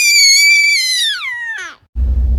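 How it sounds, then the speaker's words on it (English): A single loud, high, sustained scream that slides downward and breaks off, followed by a burst of low rumbling noise. "Now somebody, anybody, everybody scream."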